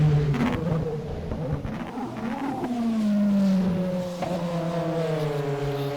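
A Mazda 787B race car engine in the rFactor 1 video game roars and shifts pitch as it accelerates and changes gear, loud and steady throughout, with no voices.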